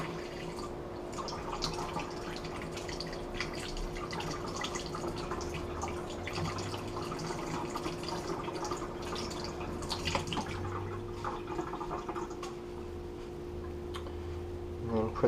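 Fluval 206 aquarium filter media rinsed under running water, a low, steady trickle and splash with faint drips lasting throughout.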